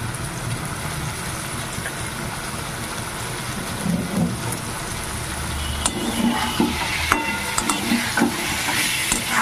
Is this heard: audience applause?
no